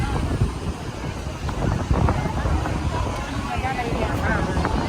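Cool sea wind buffets the microphone at Shivrajpur beach near Dwarka, a steady, loud broadband rumble that fills the whole stretch with constant gusty noise.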